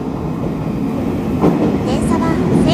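Meitetsu 1800 series electric train on a special service on the Airport Line, rumbling past close by with rhythmic wheel clatter and a brief high squeal, while someone talks over it.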